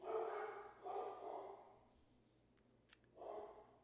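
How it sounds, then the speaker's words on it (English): Dogs bark indoors in the background, faint and somewhat distant, in a few separate bursts with quiet gaps between them. "My dogs are barking."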